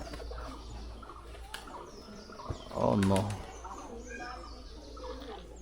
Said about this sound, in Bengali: এই যে কবুতর সবগুলা কি উড়ে গেছে নাকি কিছু বাকি আছে